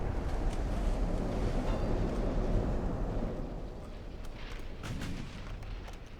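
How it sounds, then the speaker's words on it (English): Casemate guns of a warship fire in a naval battle from Ultimate Admiral: Dreadnoughts, heard as a continuous, fairly faint rumble of distant gunfire with a few sharper reports late on, and no voices. "Casemate guns."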